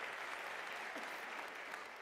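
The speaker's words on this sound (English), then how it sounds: "I think they deserve a round of applause." Audience applause fills a university graduation ceremony, a dense, steady wash of many hands clapping at even loudness throughout, with no voices standing out.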